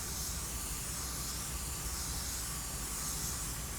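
A spray gun lays a light dust coat of clear coat onto a car panel near the license plate, giving a steady, even hiss of atomized spray that runs unbroken throughout with no talking.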